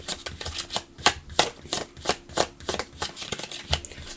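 A deck of playing cards shuffled by hand on a table, with a steady run of quick riffling flutters and soft slaps, fairly faint and close, with no talking.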